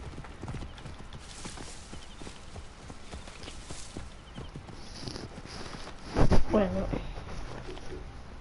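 Horse hooves in a video game clip-clop in a steady walking rhythm, with a brief louder burst of sound near the end.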